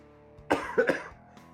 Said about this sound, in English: You can see I still got that cough.